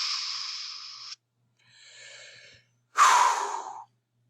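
A person exhales in three long, airy breaths with pauses between them, close and clear, the last breath the loudest.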